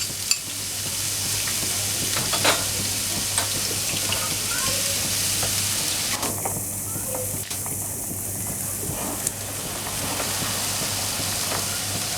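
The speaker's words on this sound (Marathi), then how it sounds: "त्याच्यात घालायचा आहे कांदा। कांदा पण परतून द्यायचा आहे।" Onion stir-fried in oil for a dry prawn dish, a loud steady sizzle with a low background hum and scattered spoon scrapes, no clear speech.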